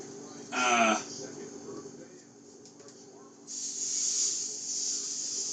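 Swordfish for blackening laid into a smoking, very hot pan, giving a near sizzling hiss that swells briefly, settles, then rises again into a steady bright sear.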